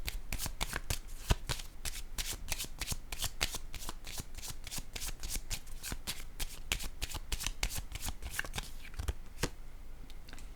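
Playing cards are handled, shuffled and laid down in a steady run of crisp, close riffles and slaps lasting throughout, with no talking.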